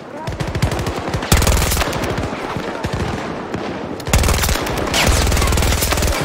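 Kriss Vector submachine gun fire in Battlefield 2042, loud rapid automatic bursts in two long sustained strings with a brief pause between, close and dominant over game ambience.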